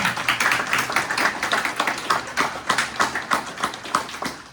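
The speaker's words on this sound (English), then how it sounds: "So let's give a round of applause for that." An audience at a hospital redevelopment fundraising announcement applauds with loud, uneven clapping that pulses in loose rhythmic bursts throughout.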